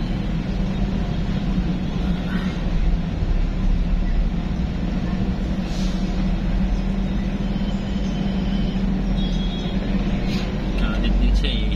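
Road traffic in Manila heard from inside a vehicle, a continuous low engine rumble and road roar with faint distant horns, steady and close throughout.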